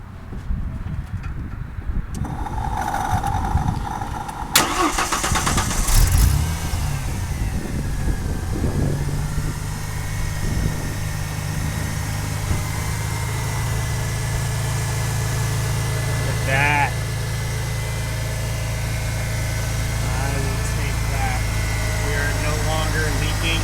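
A 1993 Ford F-150 with a fuel leak cranks and catches after a few seconds, then settles into a steady, close idle hum that runs on, with someone talking over the start.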